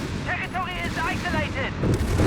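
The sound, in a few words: artillery high-explosive barrage in Company of Heroes 3, a video game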